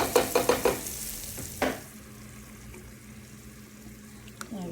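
Spices frying in a pan with a close, steady sizzle, opened by a quick series of scraping stirs and one louder stir before the hiss settles.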